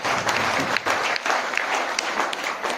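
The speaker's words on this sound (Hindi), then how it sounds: "जबरदस्त तालियां बजाएं।" Audience applause after a call to cheer a company's CMDs at a business event, a dense, steady crowd clapping that fills the whole moment with a few sharper claps on top.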